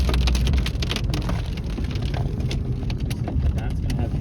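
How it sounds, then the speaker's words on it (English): Heavy rain from a storm's rain curtain in Nebraska pours steadily for several seconds, with dense patter and gusty hiss heard up close and loud throughout. "we're coming up to the rain curtain now"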